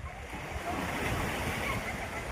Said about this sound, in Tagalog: Ang dagat.